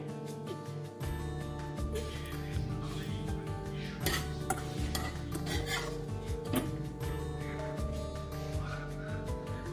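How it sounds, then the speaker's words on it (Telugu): A spoon stirring dry fruits into rava kheer in a metal pan, with steady scraping and clinking of utensil against the pan, close and continuous over a faint background hum. "ఫైనల్గా డ్రై ఫ్రూట్స్ వేసేసుకొని ఒకసారి బాగా కలిపేసుకోవాలండి"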